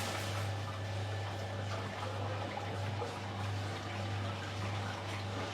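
An electric mixing motor hums steadily while urea solution is stirred in a tank, a constant low drone beneath busy sloshing, churning water noise that persists evenly throughout.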